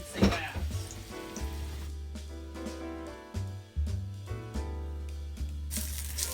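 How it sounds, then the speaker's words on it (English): Pork tenderloin sears in a hot pan, a steady close sizzle and crackle running throughout, with a few brief clatters of handling. "Like I said, you're just searing each side"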